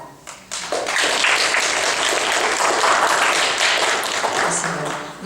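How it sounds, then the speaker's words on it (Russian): An audience breaks into sustained applause after a few scattered first claps, a dense, loud and even clatter of many hands that keeps going before easing slightly at the end. "Давайте похлопаем."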